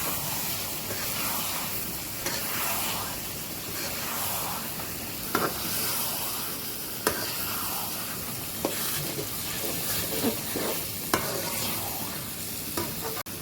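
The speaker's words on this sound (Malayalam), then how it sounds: "ലിവർ ഇട്ട് കൊടുക്കാം ചിക്കൻ നല്ലപോലെ മിക്സ് ചെയ്യാം" Chicken liver sizzles steadily in a pan while being stirred, a dense continuous frying hiss with occasional sharp clicks of a spoon against the pan, close and without talk.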